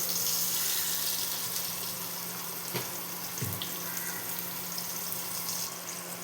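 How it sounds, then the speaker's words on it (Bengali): Lightly parboiled, salted potatoes frying in oil in a home kitchen for dim kophi dalna, a soft steady sizzle with a couple of faint clinks partway through, no voices. "এই তেলের মধ্যে আমি এখন এই আলুগুলো ভেজে নেব।"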